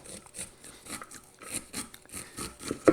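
A knife slices corn kernels off the cob into a big wooden bowl, giving a series of crisp, rhythmic scraping crunches close up, each stroke separate, quiet but clear, with no voices.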